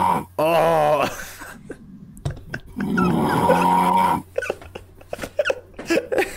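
A person snores loudly in a series of rough, rattling breaths with pauses between them. Other people talk and laugh nearby between the snores.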